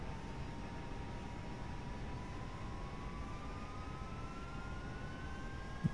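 A Cessna Citation II (S550) jet engine in X-Plane 11 spools up during ignition, a steady broadband rumble with a slowly rising whine underneath, held at moderate level throughout with a small knock at the very end.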